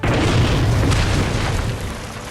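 A tank shell explodes against a target in the animated series Red vs Blue, a loud, deep boom that rumbles and slowly fades with no talking.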